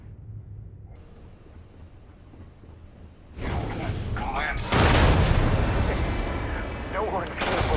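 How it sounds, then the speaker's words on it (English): Gunfire in Starfield, a sustained loud burst of shots and booming impacts that swells in after a quieter stretch and keeps going, with a person's voice talking over part of it. "He's still shooting."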